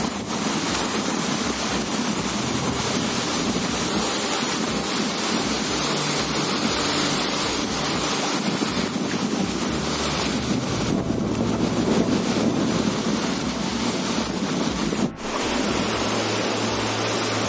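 Water slides slowly over a stone weir into a river, a steady broadband rush heavily mixed with wind buffeting on the microphone throughout.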